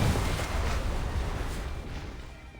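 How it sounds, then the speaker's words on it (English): A big explosion in the video game LADS, heard as a dense, sustained roaring blast that tails off over a couple of seconds, fairly faint overall and without speech. "A deafening explosion drowns out the music and ensuing screams."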